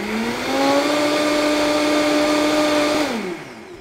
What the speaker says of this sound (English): The ideal blending time should be about 30 seconds.